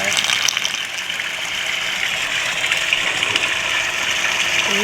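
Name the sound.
pool vacuum sucking up poured pool leak sealant and water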